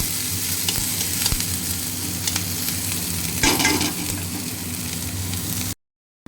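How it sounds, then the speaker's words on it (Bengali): Onions half-frying in an overheated kadai give a steady, loud sizzle with scraping stirs and a brief louder burst midway, then the sound cuts off near the end. "অনিয়নগুলো হাফ ফ্রাই করব, বেশি ফ্রাই করব না,"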